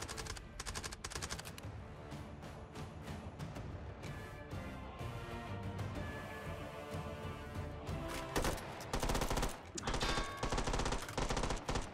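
Dense, loud gunfire in the VR game Hot Dogs, Horseshoes & Hand Grenades, with rapid machine-gun bursts and single shots overlapping continuously for twelve seconds, growing heavier near the end; no talking.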